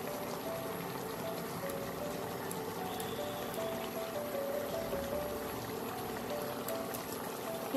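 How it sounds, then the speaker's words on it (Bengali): Bele fish curry with mustard paste and green chilies simmers in a pan, giving a steady, faint, continuous bubbling hiss with no talking. "এটা কিছুক্ষণ ফুটবে, দু তিন মিনিট ফুটবে।"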